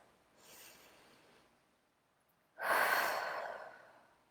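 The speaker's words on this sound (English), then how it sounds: "just take a nice big deep inhale and release" A deep breath during a calm EFT tapping relaxation session: a soft, long inhale, a pause, then a louder, fuller exhale that fades out, close and alone in a quiet room.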